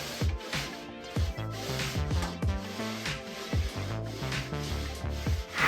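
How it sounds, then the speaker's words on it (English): A pole sander rubs back and forth across a sprayed bathroom wall, smoothing down bumps in steady, rhythmic abrasive strokes that sound close and fairly loud. "After it dried, I sanded the wall with a pole sander to make the surface smooth and to sand down any big bumps."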